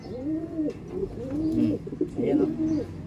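A racing pigeon coos close by in three rounded, repeated phrases, with faint background noise between them.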